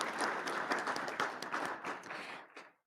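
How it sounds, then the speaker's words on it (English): Brief, faint audience applause at a public forum, a short burst of scattered clapping that dies away within a few seconds. "Let's give them a round of applause."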